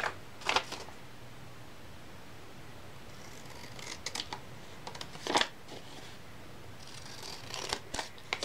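Scissors snipping through fabric along a sewing dart: a few quiet, brief cutting bursts spaced apart against a soft, near-silent room.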